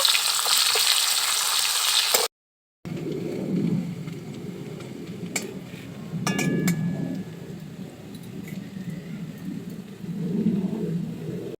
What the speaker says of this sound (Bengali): এবার এর মধ্যে দিয়ে দেব একটা পেঁয়াজ কুচি। পেঁয়াজটাকেও হালকা একটু ভেজে দেব।